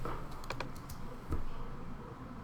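Typing on a computer keyboard during video editing, with a handful of quick, close key taps and then a single firmer press like the enter key, over a steady room hiss.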